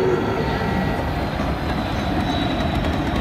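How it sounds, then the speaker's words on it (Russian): A model metro train runs through a miniature city display at Legoland Dubai. It gives a continuous, fairly loud rolling rumble with faint rail clatter, steady from start to finish and with no talking. "А вот и метро поехало."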